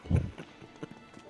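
Horse hooves clip-clop in Final Fantasy VII Remake, a brief run of a few close, soft clops, the first one the strongest.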